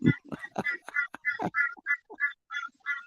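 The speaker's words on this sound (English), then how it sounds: "Even that bird in the background's laughing." Ducklike quacking calls in the background, a steady series of about a dozen short nasal honks repeating roughly every quarter second, moderately loud, with a brief voice at the start.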